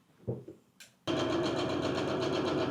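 A sewing machine runs steadily and close by, stitching a French seam along the right side seam of a summer garment, starting after a few faint soft knocks and then holding a continuous even whirr.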